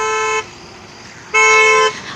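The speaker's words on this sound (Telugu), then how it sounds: "ఎందుకు హార్న్ కొడుతున్నా" A car horn sounds twice in short blasts, the second longer and louder, close by, with quiet background between.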